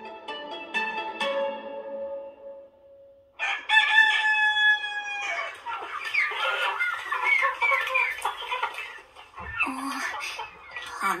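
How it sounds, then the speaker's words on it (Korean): On a farm with a fenced chicken run, a rooster crows loudly and close by several times between clucking hens, each crow drawn out and clear against near silence. "암탉이 또 알을 낳는 걸까?"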